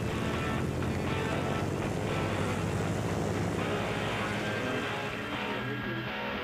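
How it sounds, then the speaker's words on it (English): Race boat engines roar at a race start: a dense, steady, loud mechanical drone holds throughout, easing slightly near the end. "Gentlemen, start your engines."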